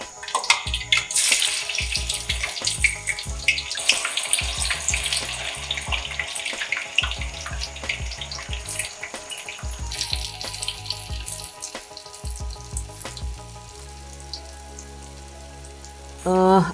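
Tofu pieces dropped into hot cooking oil over a high-pressure burner sizzle and crackle steadily close up, a busy continuous frying hiss with intermittent pops.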